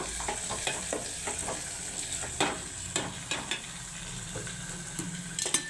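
Tomatoes roast in a hot pan while a spoon stirs them, a soft continuous sizzle broken by light scraping and tapping strokes against the pan, close and moderately quiet, with no talking.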